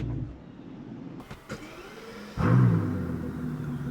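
A Mercedes S65 AMG V12 is switched off, leaving a low quiet hum, then restarted with a sudden loud surge that settles into a steady, deep idle.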